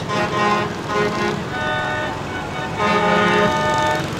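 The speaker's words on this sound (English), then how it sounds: "And they have 20 of these mini vehicles." Horns on the Melha Shriners' mini vehicles honk in a St. Patrick's parade on Elm Street in Manchester, two long, loud, sustained toots over street noise and crowd murmur.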